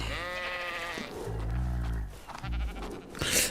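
Sheep bleating in Ark Survival Ascended, a few wavering, nasal bleats close up, one after another over a quiet game background.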